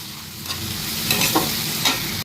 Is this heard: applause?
no